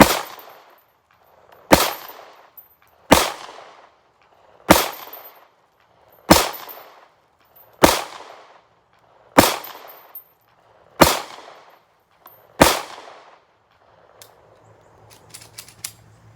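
A Guttersnipe Cut CM9 pistol fires nine sharp, loud shots at an even pace of about one every one and a half seconds, each followed by a short ringing decay from steel targets. Faint handling clatter follows the last shot.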